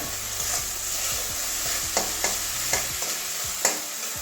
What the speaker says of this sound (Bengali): এবারে মশলাটাকে তেল ছাড়া অবধি কষাবো